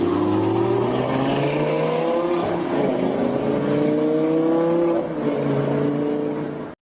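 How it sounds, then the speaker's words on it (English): A car engine revs and accelerates loudly, its rising harmonic whine climbing in steady sweeps before cutting off abruptly. "Car."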